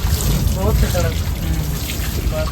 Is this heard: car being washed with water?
yes